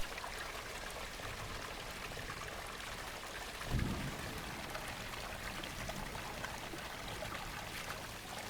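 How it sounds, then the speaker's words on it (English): Running water rinsing eggplants, red peppers, tomatoes and cucumbers, a steady close splashing stream with no voice and one brief louder gush midway. "Now, let's wash our veggies. I have eggplants, red peppers, tomatoes, and cucumbers. Make sure to rinse them well."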